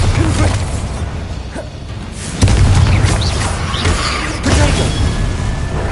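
Bombarda and Confringo spells going off in the Hogwarts Legacy video game: two loud booming blasts, one around the middle and a second later, each followed by rumbling debris and crashing within dense, busy game noise.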